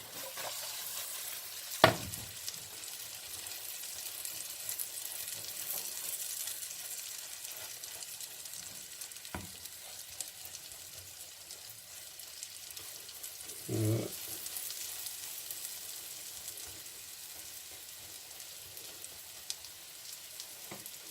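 A vegetable omelette with onion and tomato fries gently in a pan over low heat, giving a soft, steady sizzle with a few sharp clinks and scrapes of a utensil against the pan.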